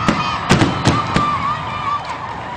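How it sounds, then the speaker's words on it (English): Fireworks at a high school football game before kickoff: a quick series of sharp bursts and pops spaced about half a second apart, then a steady hiss and crowd murmur trailing off. "some fireworks, Chris. Wow."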